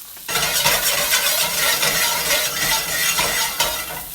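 Escargot warming in a pan of melted butter, a dense continuous sizzle and bubbling crackle that starts abruptly and holds steady at close range, loud and unbroken with no voices.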